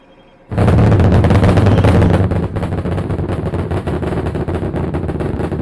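SpaceX Starship rocket engines on Flight 5 roar at launch: a sudden, loud, dense wall of broadband rumble bursts in after a quiet moment, then holds steady and continuous throughout.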